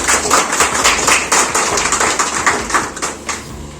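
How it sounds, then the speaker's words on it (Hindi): An audience at a human rights awareness gathering in Shripur Tinpatiya, Jamuria, claps steadily in a dense, continuous burst of applause, fairly loud and without voices. "मैं उनके लिए एक बार जोरदार तालियां से स्वागत करता हूं"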